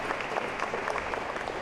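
Dense applause from a crowd at a high school boys swim and dive meet, welcoming the visiting team: a steady wash of clapping that holds evenly for the whole short stretch.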